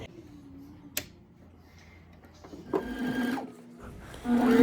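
A sewing machine stitches down a raw edge rolled under an eighth of an inch, starting with a tick and short whirs and then a steadier motor hum, close by with a voice talking over it.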